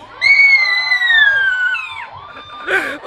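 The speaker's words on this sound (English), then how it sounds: "This is for the crowd to make noise." Crowd noise with children shouting and cheering, loud and sustained from near the start, with high yells and whoops rising over a bright tone and a sharper burst of shouting near the end.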